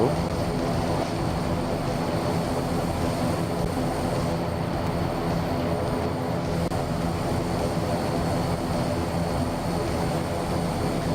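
A Fokker F27 turboprop airliner's propeller engines in Microsoft Flight Simulator 2024 make a loud, unbroken drone with a steady hum that runs the whole time.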